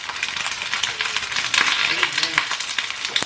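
Goose breasts sear and brown in their own fat in a hot pan, a loud continuous sizzle and spatter with crackling bursts, close and steady throughout.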